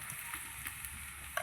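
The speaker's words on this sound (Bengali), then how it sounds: "পেঁয়াজটা আমি একটু ভাজা ভাজা করে নিয়েছি, এবার লতিটা দিয়ে দেবো।" Boiled taro stolons go into a pan of fried onions, with a low steady sizzle and a faint scrape near the end.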